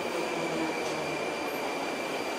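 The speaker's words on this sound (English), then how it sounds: "there's the train coming." A Moscow Metro subway train arrives at the platform as a loud, steady roar of rumble and wheel noise. The sound fills the whole moment without any talking.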